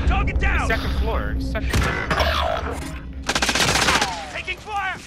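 Bursts of gunfire in a sniper video game crackle in rapid clusters, mixed with game effects and players talking over the shots.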